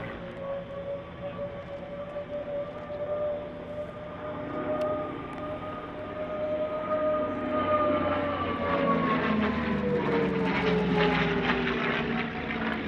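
A Commonwealth Aircraft Corporation CA-18 Mustang, the license-built North American P-51D, flies past at an airshow, its propeller engine droning steadily and rising in pitch and loudness as it passes.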